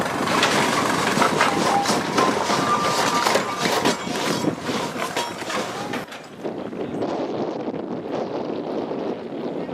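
A narrow-gauge railway train in Nagychang, Hungary rumbles loudly and continuously close by, with heavy wind buffeting the microphone and the roar dropping suddenly about two-thirds through.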